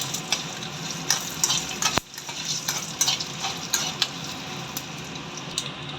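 Dried red chillies, mustard seeds, fenugreek and a little cumin sizzle steadily in hot oil, with a spoon stirring the pan and scraping it in scattered clicks. One sharp knock lands partway through.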